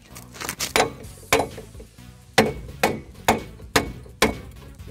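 A sledgehammer strikes metal on a Subaru during a rear brake swap and bushing replacement, about nine heavy blows at an irregular pace with ringing decay, close by and loud, with no talking.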